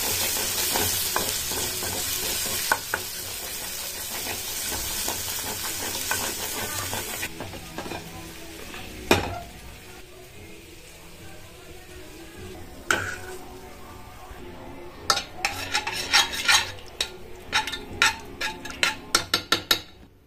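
Cauliflower curry cooking in a pan gives a continuous sizzle under repeated stirring scrapes, then a run of sharp utensil clinks and knocks against the pan toward the end, no talking.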